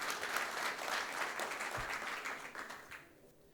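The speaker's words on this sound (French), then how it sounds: "Je pense qu'on peut applaudir les participants parce que c'est eux qui font ça." Audience applause for participants at an industry morning event in France, dense clapping from a seated crowd that fades away toward the end, fairly quiet overall.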